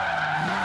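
Tyres of a Volvo 850R drift build with a 748 hp RB26 engine skid steadily while drifting in Forza Horizon 3, a loud continuous squeal with engine noise and no break.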